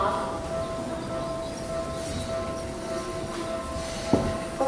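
A train rumbles steadily alongside a platform at Kotesashi terminal station, a continuous low roar with a sharp metallic clank near the end.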